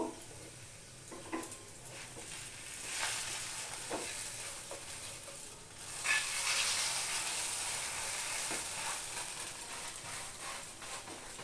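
Egg batter for a chicken roll fries in a pan, a soft, continuous sizzle with occasional light scrapes and taps of a spatula spreading it, growing slightly louder midway.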